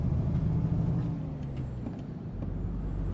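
A heavy truck's engine rumbles steadily with a low droning retarder brake sound in American Truck Simulator, under a thin high whine that slowly falls in pitch.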